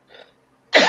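Coughing and throat clearing on a porch: a soft throat-clearing rasp, a short pause, then a sharp, loud cough close to the microphone.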